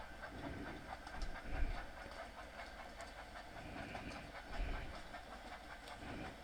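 Thomas the Tank Engine steam locomotive in Train Sim World 5 rolls out of a station on the line toward Minehead, with a low steady rumble, faint hiss and soft rhythmic wheel clicks.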